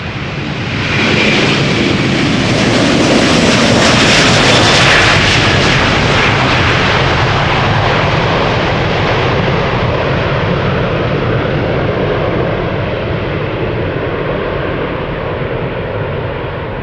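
KLM Airbus A330-200 jet roaring loudly and close, a thick engine rumble that swells in the first seconds and then holds, fading slightly toward the end as it passes.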